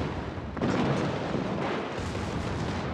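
Heavy secondary naval guns of the battleship Brandenburg fire in World of Warships, a deep booming blast swelling into a sustained roaring rumble that fills the moment.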